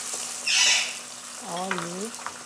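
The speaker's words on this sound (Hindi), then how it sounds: "फिर मैं इसमें ये गोश्त डालकर भूनूंगी, जरा बीफ है ये, गाय का गोश्त।" Beef frying in a pot for a carrot and meat curry, a continuous hiss with a brief louder sizzle burst, followed by a short tonal sound.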